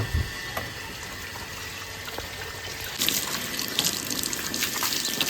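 Water splashing while a vehicle is washed outdoors, a soft steady trickle that turns into louder, denser splashing and gushing about halfway through, with no talk.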